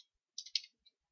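A computer mouse clicks a few times in quick succession while working in Autodesk Inventor 2015 software, with one faint extra click shortly after, in an otherwise quiet room.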